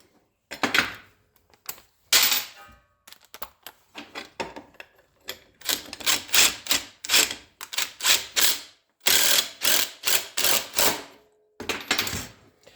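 Repeated ratcheting bursts from a 3/4-inch socket ratchet tightening a seat mount bolt on a car, close and fairly loud, in quick clicking runs separated by short pauses, with no talking.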